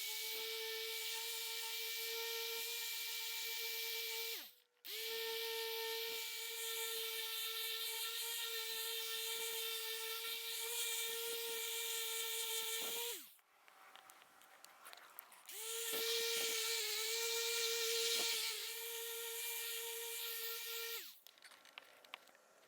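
A polishing machine working Koch Chemie Heavy Cut compound into a plastic Tesla bumper: a steady high motor whine with strong tonal harmonics, cutting out briefly a few times as the machine stops and restarts.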